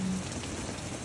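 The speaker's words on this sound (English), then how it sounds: "it's raining hard" Heavy rain pours steadily during Hurricane Hilary, a dense, even hiss of drops striking surfaces close by, with no wind gusts or voices over the brief stretch.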